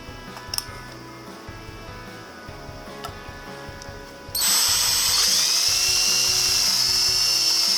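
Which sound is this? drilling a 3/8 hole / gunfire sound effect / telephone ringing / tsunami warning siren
drilling a 3/8 hole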